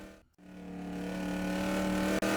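A street stock race car lapping Boomtown Speedway during qualifying, its engine rising from a brief dip into a loud, sustained climbing roar as it passes close by.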